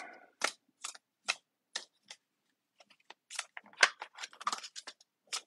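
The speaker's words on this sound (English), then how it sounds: "I'm just doing some shuffles." Crisp, short card snaps and slides from shuffling tarot cards, spaced out at first, then a faster cluster of flicks, close and quiet with no talking.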